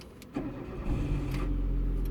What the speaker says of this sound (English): It's gonna crank.